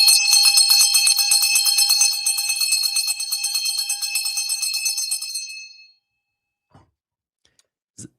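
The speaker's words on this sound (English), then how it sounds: "Is that your tie bet bell?" A bell rings loudly at the 4 p.m. stock market close, a sustained bright clang with rapid repeated strikes lasting about five seconds, then decaying into near silence with a couple of faint knocks.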